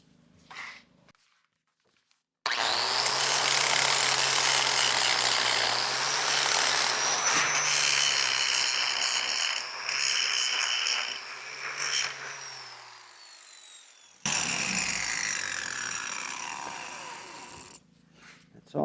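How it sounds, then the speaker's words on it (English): A grinding wheel bites into a steel clamp on a bucket fork in a long, loud, close pass of harsh rasping with a high spinning whine, then a short silence and a second shorter grinding pass. "Okay, grinding wheel has been installed."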